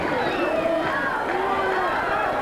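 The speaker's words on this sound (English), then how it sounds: "Crowd screaming, go, Red, go." A crowd at a 1978 California wrestling match screams and cheers in a dense, continuous roar of overlapping shouting voices.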